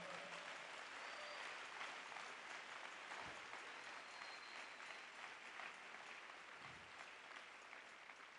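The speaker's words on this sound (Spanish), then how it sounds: "vamos a darle un fuerte aplauso al Señor." A church congregation breaks into loud, sustained applause during a service, a dense continuous wash of clapping heard from within the crowd throughout.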